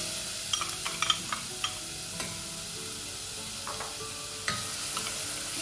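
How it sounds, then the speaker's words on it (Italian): Chopped onion fries in oil in a pan with a steady, soft hiss and sizzle throughout, broken by a few light clicks and scrapes of stirring, close and fairly quiet, with no talking. "Mettiamo dell'olio tegame e aggiungiamo la cipolla tritata."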